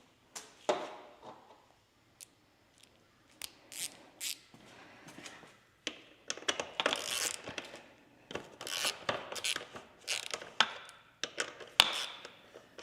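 Bolts being removed from the plastics of a KTM 85SX dirt bike, heard as close, scattered metallic clicks, taps and ratcheting bursts in irregular clusters, with no talking.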